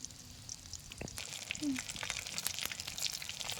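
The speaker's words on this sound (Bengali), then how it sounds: "সুন্দর করে ভেজে নিতে হবে, একটু সময় দিতে হবে মাছের ভিতরটা যেন সুন্দর মতো সিদ্ধ হয়ে যায়" Fish fingers frying in oil make a soft, faint sizzle with scattered crackles and a few small knocks from handling the pieces.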